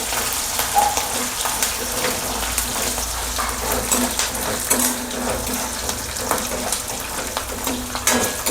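Green chillies and peanuts stir-fried in a pan for kanda pohe, a steady sizzle with scraping stirring strokes throughout, close and moderately loud, with no talking.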